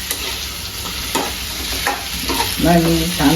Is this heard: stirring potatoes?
yes